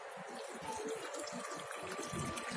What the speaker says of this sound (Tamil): புளி தண்ணி விட்டுட்டு கிளறிட்டு பத்தலைன்னா வெறும் தண்ணி விட்டுக்கலாம்